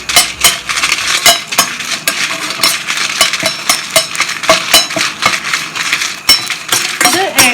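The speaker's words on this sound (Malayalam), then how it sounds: "ഇപ്പൊ കറിവേപ്പില ഇട്ട് കൊടുക്കാം, അതിന്റെ കൂടെ തന്നെ വറ്റൽ മുളക്." Curry leaves and dried red chillies crackling in hot oil for Udupi rasam, with loud, steady metallic clinks and scrapes of a spoon stirring in the pan throughout.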